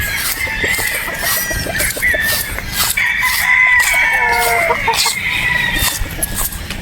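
A Boston Roundhead broodstag rooster crows loudly and close by, with clucking and other fowl calls around it in a busy farmyard setting.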